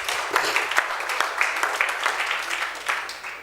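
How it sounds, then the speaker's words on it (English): Audience claps for P1 Group at a property sales event, a loose scattering of individual hand claps from a modest crowd, uneven and fairly quiet in a reverberant room. "Can we clap for P1 Group?"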